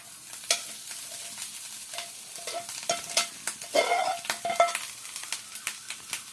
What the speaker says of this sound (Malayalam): നമുക്ക് നന്നായിട്ട് ഇതൊന്ന് മിക്സ് ആക്കണം. മിക്സാക്കി നന്നായിട്ട് റോസ്റ്റ് ചെയ്തെടുക്കണം.